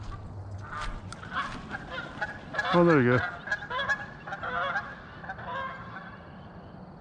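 Geese honk loudly at a pond during a fishing outing, a burst of several calls near the middle over outdoor background noise, with someone speaking briefly before and after.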